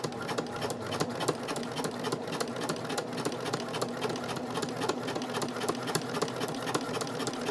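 A sewing machine back stitches a small credit card wallet, running steadily with rapid even needle clatter and a low motor hum, close and alone.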